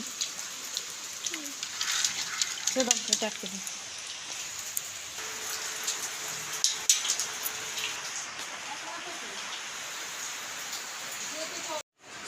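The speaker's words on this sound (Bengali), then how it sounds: "বৃষ্টি হচ্ছে বৃষ্টি" Rain falls steadily on a rooftop as a constant soft hiss with scattered drop patter, medium distance. A voice speaks briefly in the middle.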